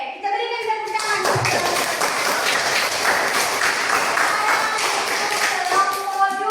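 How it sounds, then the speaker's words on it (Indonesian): A classroom of students claps for a student group after its presentation, dense steady applause lasting several seconds with children's voices chattering underneath and an adult voice at the start and end. "kita berikan tepuk tangan"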